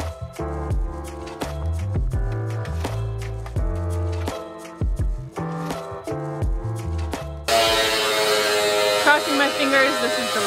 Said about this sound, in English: We have to grind about like 1/8 from the top.